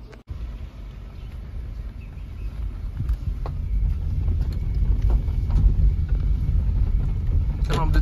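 A Tata Altroz driving on a rough, rutted back road, a continuous loud rumble of engine, tyres and body rattle with wind buffeting the microphone, rising in intensity, with occasional knocks from the uneven surface.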